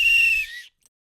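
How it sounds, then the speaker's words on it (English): A whistle blown once at the end of a match, a steady shrill tone held for about half a second before cutting off into silence. "Let's blow our whistles and then we can work out who won."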